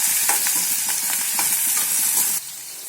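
Tomatoes with salt sizzle steadily in a hot pan, with a utensil stirring and scraping in soft repeated strokes. The sizzle dips slightly near the end.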